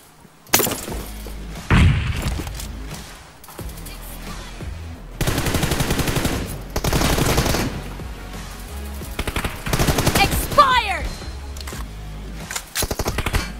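Gunfire in a battle royale team deathmatch game comes in loud, dense automatic bursts separated by short lulls, with sounds of breaking glass in between and no talking.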